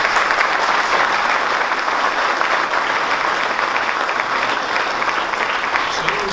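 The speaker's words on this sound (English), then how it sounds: "if you guys would applaud them for that" Sustained applause from an audience at a Tampa Bay Rays ballpark plan unveiling, a dense, steady wash of clapping that holds evenly loud for the whole stretch without a break.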